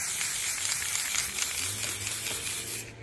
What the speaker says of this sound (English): So I'll do a light little spray